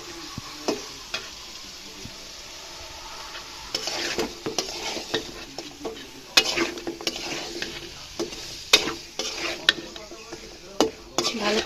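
Shrimp curry with potato, flat beans and young radish is stirred in a pot, with repeated spoon scrapes and knocks against the metal over a low simmering sizzle, close and without speech.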